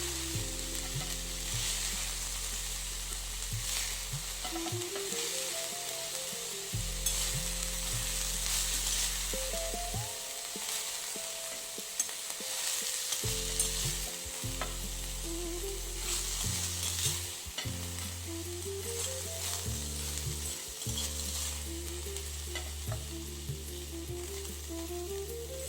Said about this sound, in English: all the chopped beans will be nicely fried.